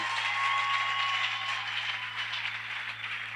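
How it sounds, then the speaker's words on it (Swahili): A church congregation applauds and acclaims the Lord, a steady wash of clapping and cheering held at an even level throughout, with a faint low electrical hum underneath. "Acclame très fort pour les Seigneurs."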